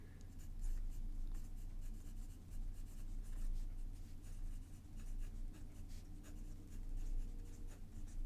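A fountain pen with a reverse grind nib scratches across paper in steady strokes, a faint close scribbling texture over a low background hum.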